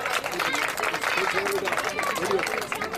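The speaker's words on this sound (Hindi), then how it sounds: "जोरदार तालियां।" An audience claps and cheers after a child's dance performance at an event, lively applause with crowd noise and a voice speaking over it.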